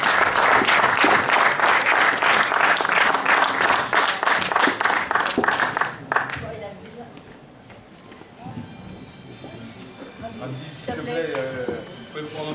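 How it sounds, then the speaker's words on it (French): Audience applause at an inclusion-through-sport medal ceremony in Chanteloup-les-Vignes, loud sustained clapping for about six seconds that then fades, with voices and music continuing faintly afterward. "On l'applaudit à nouveau s'il vous plaît"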